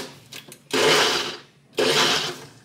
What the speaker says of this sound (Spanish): creo que ahora sí ya estamos ready para licuar esto